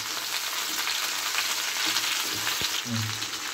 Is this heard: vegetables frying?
yes